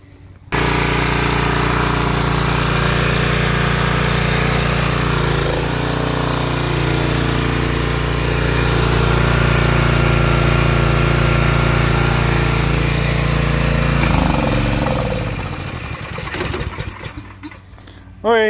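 A Generac 5500XL gasoline generator engine runs steadily and loudly up close with a constant droning hum, then sputters and winds down near the end.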